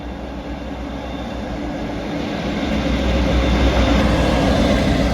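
A British Rail Class 57 diesel locomotive passes close by, a heavy engine drone and rumbling wheels that swell steadily louder over a few seconds, with no talking.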